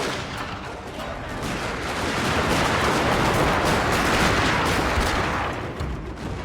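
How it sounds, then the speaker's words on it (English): Massed musket volleys from line infantry in the Total War: Shogun 2 Fall of the Samurai battle, a dense, sustained crackle of gunfire that swells and rolls continuously, loud and distant-sounding with no talk over it. "Line infantry, go. We can have double volleys here."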